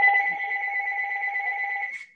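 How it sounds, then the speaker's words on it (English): Telephone ringing with a steady two-tone electronic ring lasting about two seconds, fairly loud and close, then cut off. "let me kill the phone that's ringing."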